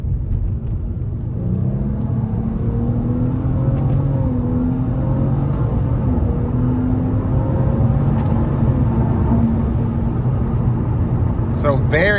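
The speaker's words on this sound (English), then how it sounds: "and then we're gonna floor it" A 2015 Nissan Altima 3.5 SL accelerates hard, its engine note rising as it pulls, a loud steady rumble that carries on throughout, with someone talking over it.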